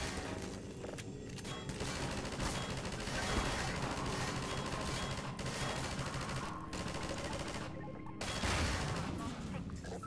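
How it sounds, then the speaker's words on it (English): Continuous machine gun fire in the video game Half-Life 2, rapid dense bursts with brief pauses, loud and close, with voices under the shooting. "Machine gun."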